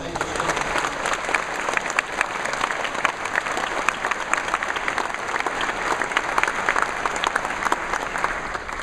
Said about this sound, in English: Could you guys give them a round of applause?